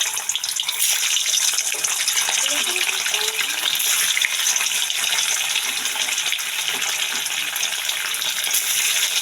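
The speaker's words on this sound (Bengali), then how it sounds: "আমি এর মধ্যে আস্তে আস্তে পনিরগুলো ছাড়বো এবং হালকা আজে ভেজে নেব।" Salted paneer pieces fry in hot oil in a home kitchen, giving a steady, loud, broadband sizzle and crackle that runs unbroken throughout.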